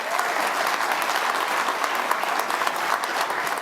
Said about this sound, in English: Can we have a round of applause for the Wolfpack?